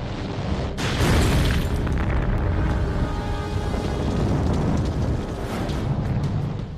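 A rocket falls back onto its launch pad and explodes, a loud sustained roaring blast that swells after a sharp onset and rumbles on without letup, with no voices.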